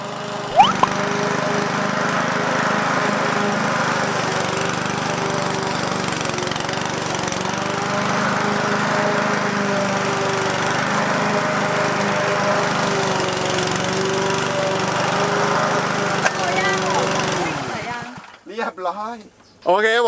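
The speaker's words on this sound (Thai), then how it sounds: "วันนี้นะเราก็ซื้อเครื่องตัดหญ้ามาใหม่" A new lawn mower's engine drones loudly and steadily while cutting grass for a long stretch, then cuts off near the end, leaving a few brief bits of voice.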